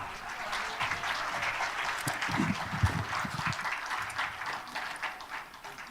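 Sustained audience applause fills a hall at a speech event in Busan, a dense, steady wash of many hands clapping that swells slightly in the middle and holds without a break.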